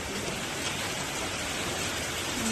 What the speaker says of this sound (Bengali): এই যে বৃষ্টি পড়ছে এই যে